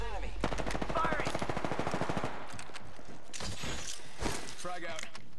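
Automatic gunfire in the Apex Legends video game: a loud, rapid rattling burst followed by a few more scattered shots and game sound effects, with a voice talking underneath.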